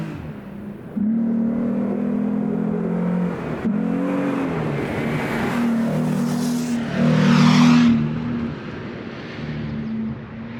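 A custom Jeep Gladiator truck camper drives along, its engine humming steadily at close range with a brief swell of revving partway through and continuous road and wind noise underneath.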